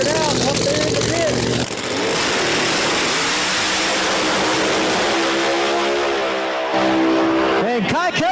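A supercharged outlaw drag race car at Virginia Motorsports Park makes a full pass, its engine roaring loud and continuous as it launches and screams away down the track, with an announcer talking over the noise.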